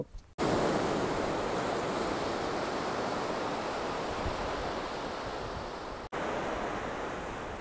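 Sea waves on Dublagadi beach give a loud, continuous roar of surf that fills the whole stretch, cut by a momentary gap near the end, with no voices.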